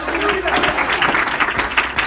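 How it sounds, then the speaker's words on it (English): A church congregation claps hands during a sermon, a dense, steady wash of many hands applauding close by. Faint voices run underneath. "Clap your hands."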